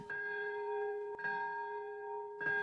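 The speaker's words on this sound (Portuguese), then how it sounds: "O som do sino marcou o minuto exato em que a bomba caiu sobre Nagasaki." A large bell tolls at the Nagasaki atomic bombing memorial ceremony, with two clear strikes about a second apart and a third beginning, each a sustained ringing tone that lingers and fades, heard alone.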